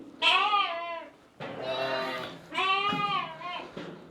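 Lacaune and Sakız sheep on a farm bleat close by in three long, loud, wavering calls one after another.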